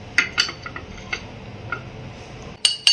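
Butter and maida stirred in a bowl, heard as light, irregular clinks and taps of a utensil against the dish, with two sharper knocks at the end.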